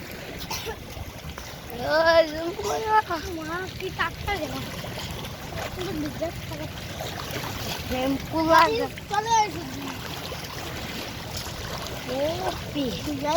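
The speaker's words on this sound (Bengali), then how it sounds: "দেখেন নদীর ঢেউ ঢেউ" River waves splash against a travelling boat in a steady watery wash, with children talking and calling out over it, voices frequently on top of the water noise.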